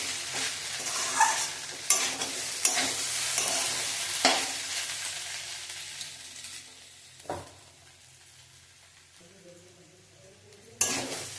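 Okra and potato fry with sugar being stirred in a pan: a continuous sizzle broken by sharp clinks and scrapes of a utensil against the pan, close up, with no talking.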